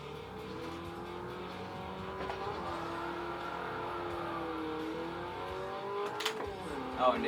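Steady in-game car engine from Forza Motorsport 4 on Xbox 360, droning and shifting in pitch throughout as the car is driven, with a brief rev or squeal near the end and no talk.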